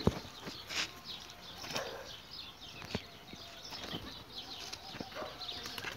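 Pigeons at a loft clap and flutter their wings in several separate bursts, close by, between quieter pauses with faint bird sounds and no talk.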